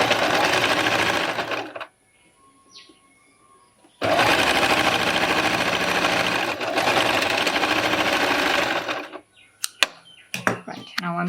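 Sewing machine stitching the top seam of a bra top or corset toile, running in two long loud bursts separated by a quiet pause, with a short stop near the end and a few clicks as it restarts.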